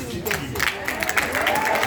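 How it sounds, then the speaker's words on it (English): A church congregation breaks into applause, a crowd clapping at moderate volume while a voice keeps talking over it. "Give him a round of applause"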